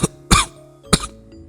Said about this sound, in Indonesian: Suara batuk itu terdengar lagi, sangat mirip dengan batuknya Bapak dulu.